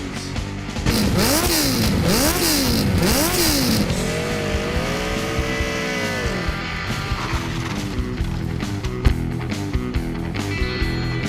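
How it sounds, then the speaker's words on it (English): A car engine revs up and down repeatedly, rising and falling in pitch, then settles into a long sustained rev and steady running hum. "Rev up your engines!"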